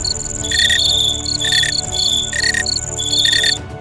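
Crickets chirping in loud, rhythmic bursts of high, shrill trills that repeat about once a second, close and continuous with no voices.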